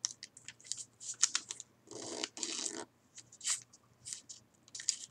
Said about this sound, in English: just take this corner and fold it up so it kind of makes a diagonal line again